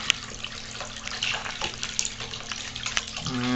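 A submersible water pump runs in water, giving a soft continuous splashing and trickling wash close by, with a brief hum and gurgle change near the end and faint voice traces.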